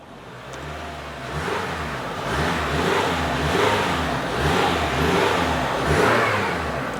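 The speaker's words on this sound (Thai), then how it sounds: "เดี๋ยวมาลองเล่นเครื่องสักหน่อยนะ เช็คดูนะครับว่าเครื่องยนต์ยังนิ่งอยู่ไหมนะครับ" A 2012 Toyota Camry 2.5 G engine runs steadily at idle, then revs up and settles back in several repeated pulses, close and fairly loud throughout.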